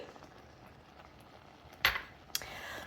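Apple and berry pie filling thickening with cornstarch slurry is mixed in a pot: two quiet, distinct clinks of a spoon against the rim over near silence.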